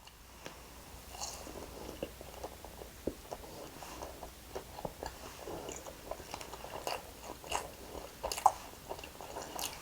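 Microwaved CU convenience-store French toast with a maple syrup taste, chewed close to the microphone in soft, moist, steady bites with small smacking sounds and no talk.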